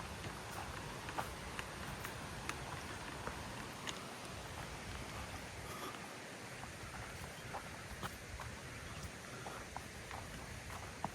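Steady broadband rush of a swollen river after heavy rain in a Thai forest, loud and continuous throughout with a few faint ticks and pops on top, no voices.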